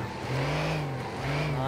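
A truck engine revving and accelerating in GTA 5 while climbing Mount Chiliad, a steady mid-pitched growl that rises in two surges, close and loud.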